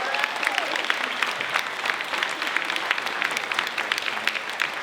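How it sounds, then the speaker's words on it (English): A round of applause for Grandma Siciliano at a family speech event, steady crowd clapping with crisp individual claps throughout, moderately loud and sustained for several seconds. "Let's have a round of applause."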